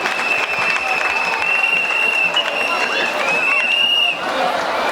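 Applause from a school audience at a debate for a student speaker, a broad continuous clapping texture at moderate loudness with crowd murmur and a thin tonal whine running through it.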